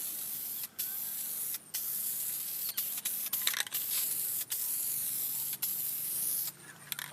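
Interior trim dye paint hisses from an aerosol can onto BMW or Mercedes upholstery trim in a run of steady sprays broken by brief pauses, close and fairly quiet, with no talking.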